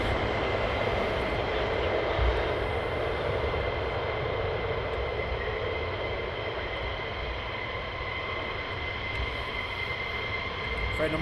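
Jet aircraft getting ready to depart at RAF Lakenheath produce a continuous, moderately distant engine roar and whine that stays steady across the whole stretch, alone without talk.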